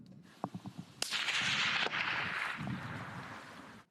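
Rifle shots from a sniper, a few sharp cracks followed by one heavier blast that rolls out into a long fading boom, heard fairly faint and distant without any talk.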